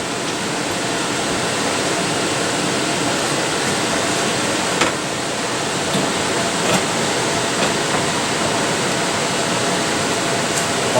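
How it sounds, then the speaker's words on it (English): A honey extractor spins frames of honeycomb from a harvest, a steady, dense whooshing whir that holds at an even level throughout, with faint clicks and no voices. "And then we put it into the extractor."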